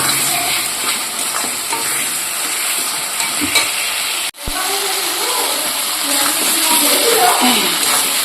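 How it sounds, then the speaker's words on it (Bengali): Tomato, chilli and ground cumin, coriander, turmeric and red chilli powder with salt sautéing in oil, a steady close sizzle with stirring scrapes, a brief dropout midway, and a voice talking over it. "এটা দিয়ে এবার ভালো করে কষিয়ে নেব"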